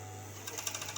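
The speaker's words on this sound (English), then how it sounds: "Just turn my overlocker back." An overlocker serger runs steadily while sewing fabric for a puff-sleeve top, a close continuous mechanical whir with fast rhythmic stitching clatter, no talking.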